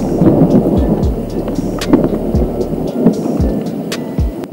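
Heavy rain pours nonstop during a thunderstorm at a sand quarry, a loud dense hiss with low rumbling thumps of thunder rolling underneath.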